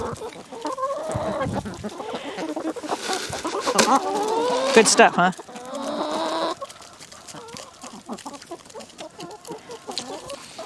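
Backyard hens cluck and squawk continuously in a winter chicken yard, several birds close by with busy overlapping calls, while a person talks over them.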